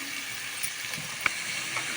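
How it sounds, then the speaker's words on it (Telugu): Onions fry in a pan with a soft, steady sizzle and a few faint clicks over two seconds. "ఆనియన్స్ బ్రౌన్ కలర్ అయ్యేంత వరకు వేయించుకోవాలి"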